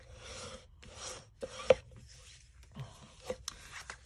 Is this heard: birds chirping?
no